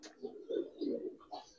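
Domestic pigeons at a Narayanganj loft, Giribaz and colour breeds of the Palla line, cooing in several soft, throaty bursts close by, with brief chirps in between and no voices.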